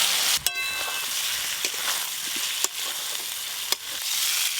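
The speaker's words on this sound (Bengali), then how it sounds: "এবার এই অবস্থায় ভেজে রাখা আলুগুলো দিয়ে একটু নেড়ে নেব।" Fried potatoes stirred into sizzling masala for aloo dum, a steady loud frying hiss broken by a handful of sharp spatula scrapes against the pan, with no voices.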